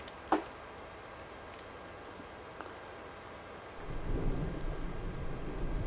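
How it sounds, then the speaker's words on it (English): Thunder rumbles in the farming video game American Life Farming, a sharp crack early on followed by a low, swelling rumble that builds and sustains toward the end, with light rain-like hiss underneath and no talking. "Ooh, thunder."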